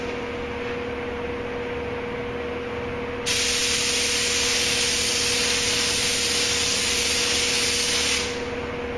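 Paint hisses from a spray gun onto the door of a 1980 Chevy Silverado in a steady burst of about five seconds, over a constant mechanical hum in the workshop. No one talks.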